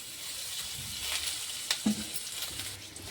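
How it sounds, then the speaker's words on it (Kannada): Thickly cut onion frying in a little oil while cooking a ridge gourd sukka, a steady soft sizzle with a few light stirring clicks near the middle, close and fairly quiet throughout. "ಅದನ್ನು ಒಂದು ಸ್ವಲ್ಪ ಫ್ರೈ ಮಾಡ್ಕೊಳ್ಳಂಬ್ರಿ"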